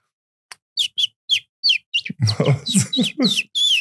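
A man imitates a small bird with his voice, producing a series of short, high chirps and tweets, sparse at first then quicker and denser, close and clear, with a little voiced sound mixed in near the middle.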